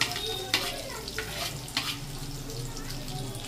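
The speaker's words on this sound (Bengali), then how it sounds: "আমি এই তেলেই প্রথমে রসুন দিয়ে দিলাম।" Garlic dropped into reused hot oil crackles and sizzles at close range, with a few sharp spatters and stirring knocks over a steady moderate fry, no talk.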